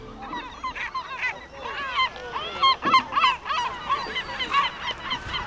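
A flock of gulls, including lesser black-backed gulls, calls at a garbage dump, with overlapping harsh squawks and yelps, some loud and near and others farther off, filling the air continuously.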